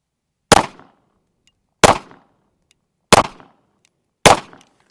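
Four sharp pistol shots from a Daniel Defense H9 fired at a target about 7 yards away, evenly spaced roughly a second apart, each a loud close crack with a short decay and no talking between them.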